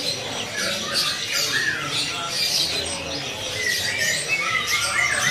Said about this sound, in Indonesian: Di kios ini ada burung anis kembang trotol ya.